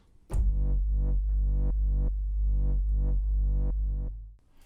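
A sustained bright tone from a Serum software synthesizer holds steadily for about four seconds, its filter pulsing rhythmically under LFO modulation in a regular wobbling pattern before cutting off.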